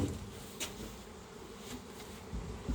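Honeybees buzz in a hive being opened for a spring inspection, a soft, steady, close hum with a few brief louder flutters as individual bees pass near.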